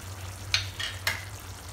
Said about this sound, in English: Our gravy is simmering for 10 minutes now, so it's almost done.